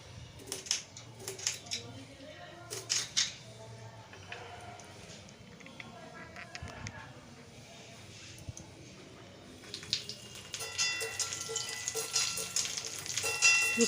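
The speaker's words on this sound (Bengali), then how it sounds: "বড়ি একটু ভেজে না দিলে ভালো লাগে না শুক্তো, তাই একটু বড়িটা ভেজে নিলাম।" Bori lentil dumplings fry in hot oil in a pan for Bengali shukto, giving a crackling sizzle with scattered clinks that grows louder and denser toward the end.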